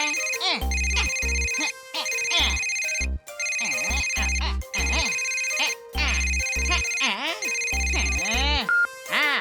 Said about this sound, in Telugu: ఇప్పుడు ఫోన్ ఎవరు చేస్తున్నారబ్బా?